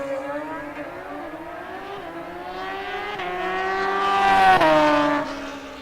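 A junior dragster in a quarterfinal run at a No-Box 660 Shootout drag race gives a loud, buzzing engine note that climbs in pitch as it draws nearer, peaks, then drops away.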